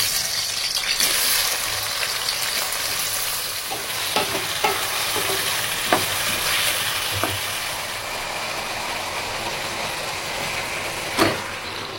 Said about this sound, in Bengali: টকবক টকবক করে ফুটছে মাংস।